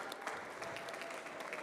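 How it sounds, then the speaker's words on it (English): Audience applause at a conference announcing the winner of an SEO expert award: steady, dense clapping from a crowd, moderately distant and continuous throughout, with no talking over it. "Give them a round of applause, everybody."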